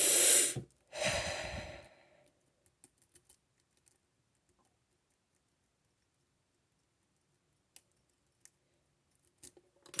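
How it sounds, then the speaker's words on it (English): Two heavy, breathy exhalations from a person out of breath, loud and close in the first two seconds, then near silence broken by a few faint clicks and taps. "I'm just feeling really out of breath, or at least I think I sound like it. Just do some breathing."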